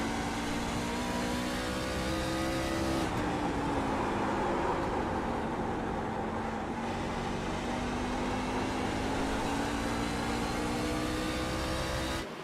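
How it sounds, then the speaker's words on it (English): A race car engine holds a loud, sustained drone as it runs down the back straightaway at Nashville, its pitch rising and dipping slightly with throttle changes. "Got to roll that throttle down the back straightaway now."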